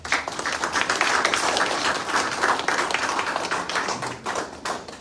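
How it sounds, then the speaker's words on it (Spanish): Audience applause welcoming a speaker at an evening book presentation, a dense, steady burst of clapping from a room of people that holds for several seconds and thins slightly near the end. "La recibimos con fuertes palmas."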